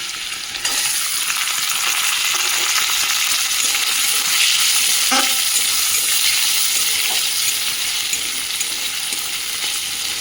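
Garlic and chopped onion fry in hot oil for a lentil dish with Malabar spinach, a loud, steady, close crackling sizzle broken by a couple of brief stirring clinks.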